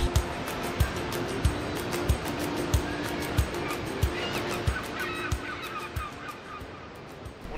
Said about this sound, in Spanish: Una gaviota californiana y un pelícano café o pelícano pardo.